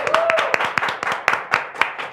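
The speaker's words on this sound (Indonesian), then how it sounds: "Ini dia, tepuk tangan untuk Angga Enggok" Studio audience at a podcast clapping for a guest: a run of sharp, loose hand claps at a quick uneven rhythm, close and fairly loud, with a brief tone and some voice mixed in.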